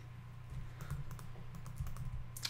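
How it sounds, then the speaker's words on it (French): Rapid clicking of keys on a faulty computer keyboard during a Minecraft session, fairly close and continuous over a low hum. "Avec saleté de clavier qui bug là."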